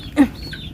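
A single short cluck from a chicken, fairly close, over a low background hum.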